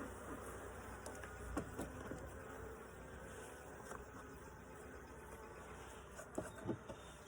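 Honey bees from an aggressive split beehive buzz close around the hive during an inspection, a steady quiet hum with individual insects droning past now and then.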